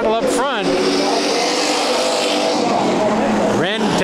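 Several race cars battling three wide for the lead in a heat race at Bakersfield Speedway, loud engines roaring steadily with rising pitch sweeps as cars pass close, under continuous excited commentary.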